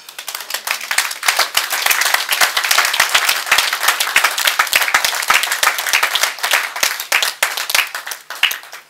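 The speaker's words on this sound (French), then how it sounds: "On peut acclamer pour nous-mêmes." A church congregation applauds during a service, with loud, dense, sustained clapping from many hands that fills the room throughout.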